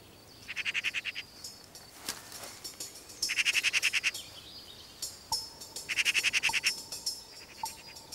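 Young magpies near fledging call from the nest in three bouts of rapid, harsh, pulsing chatter, close and clear, with a faint high tone and quieter calls between bouts.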